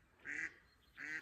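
Two short nasal quacks from ducks during a spring duck hunt in open country, each call a brief burst with a long pause between them, heard at moderate distance and fairly faint.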